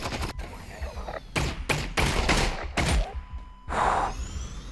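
Rapid submachine gun bursts in the virtual reality game Half-Life: Alyx, several short volleys of gunfire close by, separated by brief pauses.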